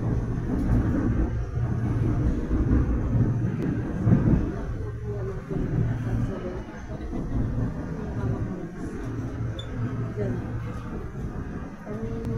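An LRT-2 light rail train in Manila arrives at Anonas Station, its low rumble and rolling rail noise steady, with a public-address voice speaking over the moving carriage sounds.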